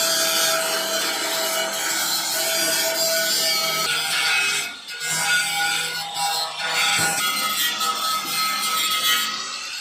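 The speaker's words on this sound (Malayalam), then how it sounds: "ഈ കട്ട് ചെയ്ത ഈ എഡ്ജുകളൊക്കെ നമ്മളൊന്ന് മിഷൻ വെച്ചിട്ട് തന്നെ നമ്മളൊന്ന് ഗ്രൈൻഡ് ചെയ്ത് വൃത്തിയാക്കി എടുക്കണം" An angle grinder runs loud and continuous on the cut edges of a metal barrel being made into a portable stove. Its harsh, rasping whine wavers briefly midway, then carries on close by.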